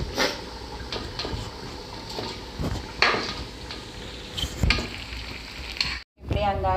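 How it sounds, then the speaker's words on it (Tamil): Parboiled basmati rice for chicken biryani pours into a boiling pot with a steady rushing sizzle and clatter, busy kitchen noise throughout, then a sudden brief silence before bubbling resumes. "ஒரு கொதி வந்த அரிசியை இப்போ நம்ம உள்ளே சேர்த்திக்கலாம்"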